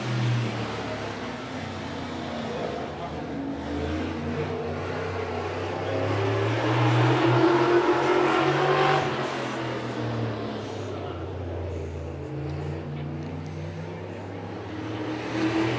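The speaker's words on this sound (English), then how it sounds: "Here we go, green flag racing for the modifieds." Modified race cars roar around the track after the green flag, a dense, loud engine drone that swells and fades as the pack passes, with faint speech mixed in.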